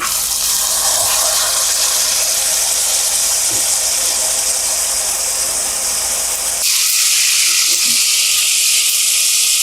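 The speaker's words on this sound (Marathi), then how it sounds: "आता मी हे मिक्स कडधान्य घालते" Mixed sprouted pulses dropped into a pan of frying onion and tomato: a loud, steady hissing sizzle fills the whole stretch, close to the pan, with a sudden brightening of the hiss partway through and no speech.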